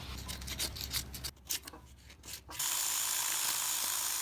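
Old gasket material is scraped off a Jeep Rubicon axle mating surface, giving a run of quick, close rasping strokes with short gaps between them. The scraping then gives way to a steady hiss.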